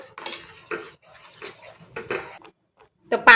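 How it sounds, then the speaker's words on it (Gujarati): A spoon stirs thick mango pulp for aam papad in a pan on a gas stove, giving irregular close scraping and knocking strokes against the pan with brief quiet gaps and a sharper clatter at the end. "તો આપણે એને ફેરવતા જ રહેવાનું છે, હલાવતું રહેવાનું છે એને"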